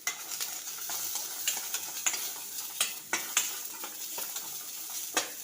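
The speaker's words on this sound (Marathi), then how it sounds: "मी आता व्यवस्थित भाजून घेते कांदा" Onion fries in a pan with a steady, quiet sizzle, broken by repeated scraping and clinking strokes as it is stirred, heard alone at close range.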